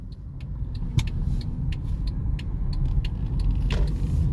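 Mercedes-Benz car with a 722.9 automatic transmission, driven after a gearbox control unit replacement, heard from inside as a steady low rumble with scattered light clicks and rattles, fairly loud and gradually building, with no talking.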